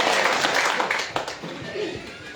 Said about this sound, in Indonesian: satu kali tepuk tangan yang sangat meriah buat Bapak Simon Lalasi